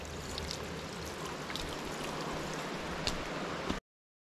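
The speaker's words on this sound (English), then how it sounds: "it's a water trickle." Water trickling steadily in a small creek on a hike to Hemlock Falls and Upper Moccasin Creek Falls, a continuous soft wash with light splashy detail and no talk, ending abruptly.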